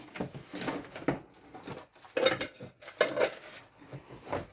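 Black plates are handled and set down, producing several clattering knocks and clinks of dishware at close range in short bursts, with no talking.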